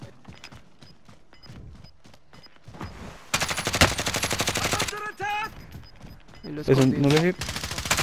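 Bursts of automatic gunfire in Call of Duty: Modern Warfare, loud rapid volleys in two main stretches with lighter shots between, while players talk quietly over the action.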